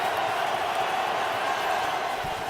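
Steady, dense roar of a football stadium crowd, broad and continuous like a wash of noise, building before a third-down snap in a 2022 Cincinnati Bengals game.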